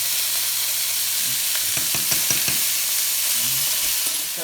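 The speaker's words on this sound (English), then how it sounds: "it should be about time for Austin to turn the meatballs" Meatballs sizzle steadily in a frying pan, a dense continuous hiss with a brief cluster of clattering stirs and scrapes midway; no one speaks.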